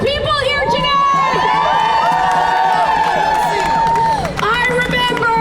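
A protest crowd of over 800 people cheering at an outdoor rally: loud, sustained massed shouting and whooping with scattered clapping, filling the whole stretch with only a brief dip near the end.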